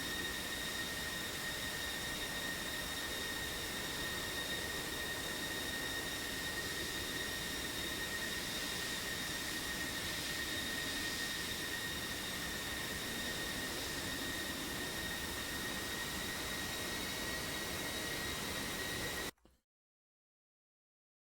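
Jet aircraft taxiing in a flight simulator game, a steady high turbine whine over a broad hiss with no talk, lasting about nineteen seconds before cutting abruptly to silence.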